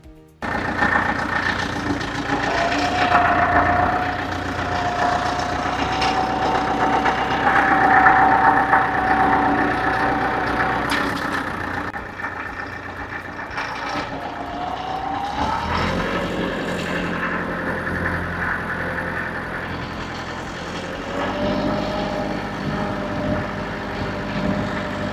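A tractor in 3 low and four-wheel drive pulls a middle buster through soil for potato planting, its loud, steady engine drone running unbroken throughout with slight rises and dips in pitch.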